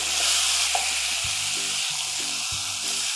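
Chicken sizzles and fries steadily in a pan with melted cheese, a loud continuous crackle, with a few soft clunks and scrapes as the pieces are turned over partway through.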